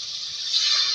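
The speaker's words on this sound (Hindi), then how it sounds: "थोड़ा सा पानी ऐड कर देंगे," A little water is poured into a pot of frying tomatoes for a vegetable chicken curry, making a steady, bright, hissing pour that lasts about a second and swells slightly toward the end.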